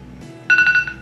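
An incoming call sets off an electronic phone ringtone about halfway through, a bright pulsing tone that comes in suddenly and loudly over a quiet room background, with no talking.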